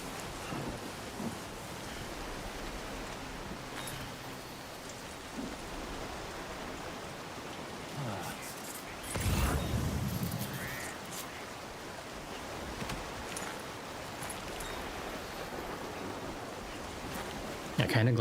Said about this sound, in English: Still, the rain is there.